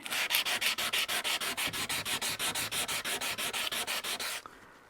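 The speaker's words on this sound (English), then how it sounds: "there's nothing better than a good hand sanding" Rhythmic back-and-forth scraping of hand sanding, about six strokes per second, steady and close, stopping abruptly near the end.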